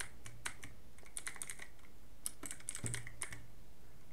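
Quiet, close computer keyboard typing: a quick burst of light key clicks, a short pause, then another run of taps, with no voices.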